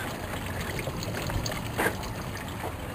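Liquid drains from a leaking hose on a boat, making a soft continuous trickle and dribble at low level with a faint splash partway through.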